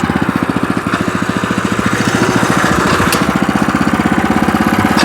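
Hand-guided walk-behind tractor with a small engine running while it drives along, a loud, close, rapid steady chugging with a brief dip in the middle, no talking.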